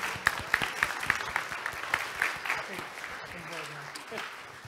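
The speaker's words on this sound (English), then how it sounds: "Let's give them a round of applause," A church congregation claps in a hall, a burst of scattered, rhythmic clapping that thins out and fades, with voices murmuring underneath.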